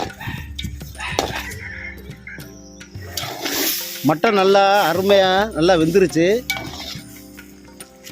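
Mutton is stirred with rock salt and scraped around a metal pot, with clinks and rustles, while a person talks over the cooking.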